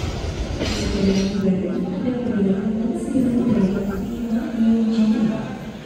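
Madiun Jaya train standing on track 3 at Madiun station, a low idling rumble with faint clinks beneath someone talking throughout.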